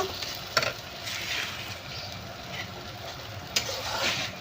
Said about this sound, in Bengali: একটা বড় সাইজের টমেটো বেটে রেখেছি, এটা দিয়ে দিলাম। এটাও আবার একটু ভেজে নেব।